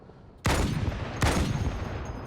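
Sniper rifle fire in the video game Halo 2: two loud, booming shots about three-quarters of a second apart, each with a long rumbling tail that carries on to the end.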